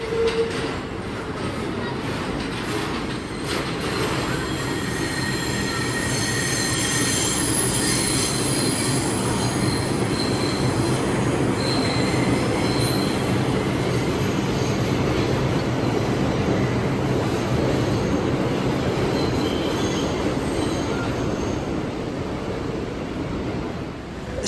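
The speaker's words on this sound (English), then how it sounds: "here comes a Brooklyn Bridge City Hall bound 6 train" A Brooklyn Bridge–City Hall bound 6 subway train pulls into a curved New York station. Its wheels squeal loudly and steadily against the rails for about twenty-five seconds, over a rumbling roar, with faint voices in the background.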